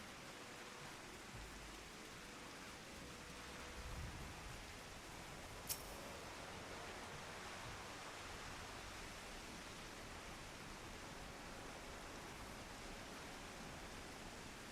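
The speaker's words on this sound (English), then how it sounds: "Like we're doing this in a complete rain." Rain in the video game Final Fantasy XIV, a dense, even hiss of steady downpour filling the whole stretch at low level, with one brief sharp click midway.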